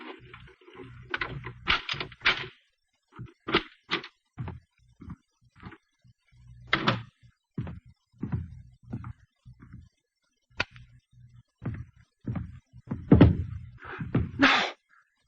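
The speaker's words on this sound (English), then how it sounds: "a key inserted in the lock of the apartment door" In an old-time radio drama, a key goes into an apartment door lock and the door opens: a scattered series of sharp metallic clicks, rattles and knocks, close and fairly distinct, separated by short silences.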